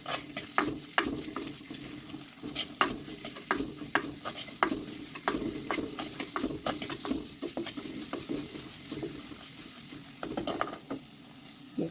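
Green chilies and other ingredients sauté in a pan for a spicy breadfruit gravy: a low continuous sizzle broken by irregular scraping stirs of a spoon against the pan, close by, with no talking.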